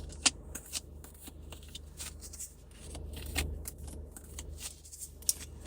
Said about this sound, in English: I'm shuffling. Be patient.